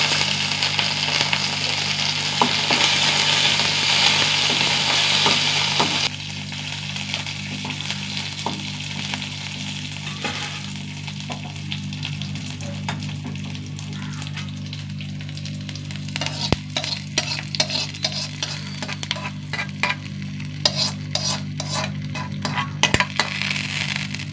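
Shallots, dried red chilies and curry leaves fry in oil with a steady close sizzle, loud bright hiss at first that settles into quieter crackling with scattered pops.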